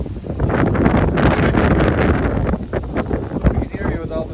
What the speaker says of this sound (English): We can hear you with all this wind.